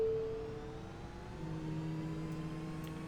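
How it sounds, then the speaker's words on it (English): A simulated EC-135 helicopter engine in the Aerofly FS 4 flight game throttles back to idle with a quiet, steady turbine whine and hum whose pitch shifts partway through, alone without talk. "Alright, we're going to take engine 1 to idle."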